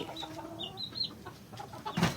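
A Silkie chicken clucks softly in short, scattered notes, close by, with a faint thump near the end.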